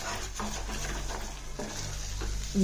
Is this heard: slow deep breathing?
no